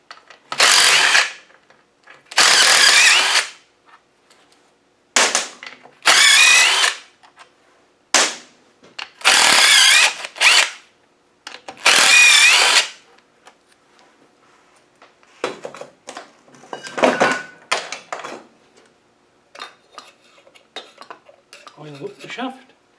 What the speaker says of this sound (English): Let's take these bolts out